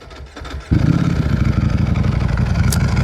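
A Ducati Panigale V4R motorcycle with a dry clutch cranks briefly and then fires up into a loud, rough, rumbling idle, close by and steady.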